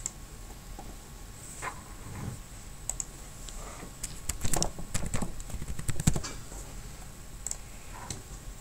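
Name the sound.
typing a category name on a computer keyboard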